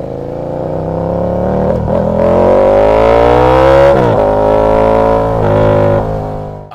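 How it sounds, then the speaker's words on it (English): A KTM 1290 Super Duke R with a full-system Akrapovič exhaust revs repeatedly, loud and close, its pitch climbing and dropping through several throttle blips with a deep, raspy rumble. "Ah, the glorious full system Akrapovich exhaust."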